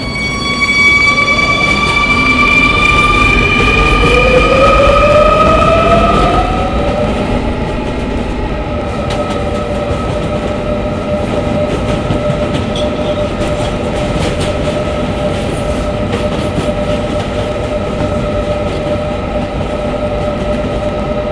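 An R220 subway car on the 11 local line hums loudly as its motors whine up in rising tones while accelerating, then settles into a steady rumbling run with rail noise and faint clicks.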